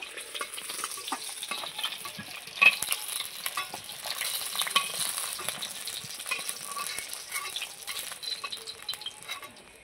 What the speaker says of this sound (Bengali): মাছটা আমার ভাজা হয়ে গেছে, এটাকে আমি তুলে নেব।